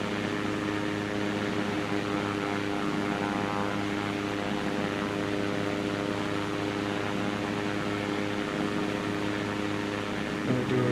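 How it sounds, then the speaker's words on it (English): A propeller aircraft flying past in the survival shooter game Deadside, a steady, loud droning engine hum with a buzzing tone that holds throughout, with a slight shift near the end and no speech. "Gonna do a quick flyby through here."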